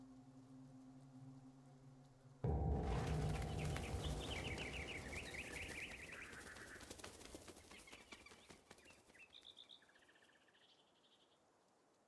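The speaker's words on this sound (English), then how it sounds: "Bird." A bird calls in Black Myth: Wukong, a few short chirping phrases rising over a loud droning ambience that fades slowly, with no talking.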